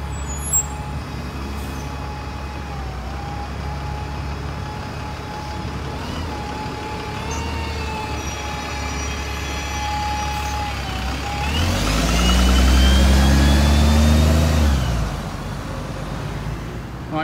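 The X6 bus to Birchwood pulls into Lincoln Central, its diesel engine rumbling under station noise, then a loud surge of engine and a hiss of air brakes as it arrives and stops.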